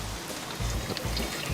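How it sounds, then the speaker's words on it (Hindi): Heavy rain pours down in a steady, close hiss of drops and splashes that stays constant throughout, with no speech. "यहाँ इतनी बरसात हो रही है"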